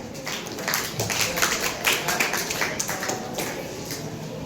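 School audience at an academic carnival clapping for students after a mathematics demonstration, a dense, steady patter of many hands close by with no voices over it.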